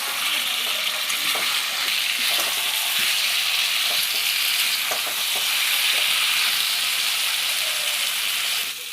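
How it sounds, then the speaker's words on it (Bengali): Green mutton curry being stir-fried as its liquid cooks off, a loud, dense, hissing sizzle with intermittent scrapes of the spoon against the pot. "এইভাবে কষাতে থাকতে হবে যতক্ষণ একদম জল শুকিয়ে তেল তেল না হবে।"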